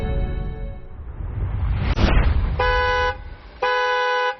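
A car horn blasts on a city street in two loud, sustained toots separated by a short gap, following a rising whoosh of passing traffic close by.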